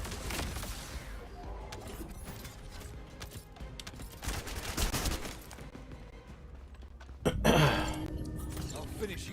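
A summoned turret firing in the Ape Escape video game, sounding as rapid mechanical clicks and clattering bursts with a ratchet-like rhythm, moderately loud, with a sharper burst near the end.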